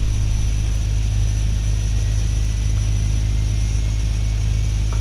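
Engine 2 of an aircraft spooling up in X-Plane, a steady loud turbine drone and hum with a constant high whine, no talk.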